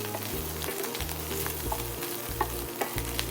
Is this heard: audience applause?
no